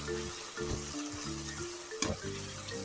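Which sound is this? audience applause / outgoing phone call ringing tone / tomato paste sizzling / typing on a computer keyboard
tomato paste sizzling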